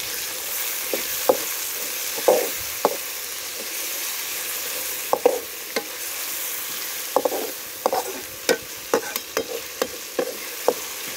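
Chopped medium-sized tomatoes fry with ginger-garlic paste and onions, giving a steady close sizzle punctuated by repeated clinks and scrapes of stirring.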